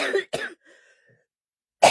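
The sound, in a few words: cough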